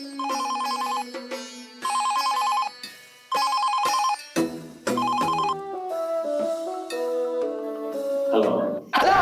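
A telephone bell rings in a house, sounding in repeated loud bursts separated by short pauses, and a voice joins near the end.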